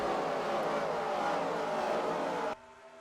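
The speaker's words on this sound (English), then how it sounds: "The roar of the engines as they head around this track" Roaring truck engines in a NASCAR-style Truck Series racing video game, a dense field of trucks running together around the track at the Aaron's 300, loud and steady, then cutting off abruptly near the end.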